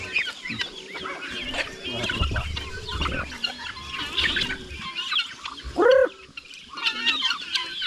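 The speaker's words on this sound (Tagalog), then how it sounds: "Yung mga tandang natin, dalawa pa yung tandang natin." Roosters and chickens on a farm, busy clucking and squawking from several birds with one loud close rooster call partway through, amid general yard noise.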